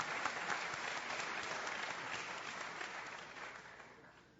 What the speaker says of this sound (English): Big round of applause for Mr.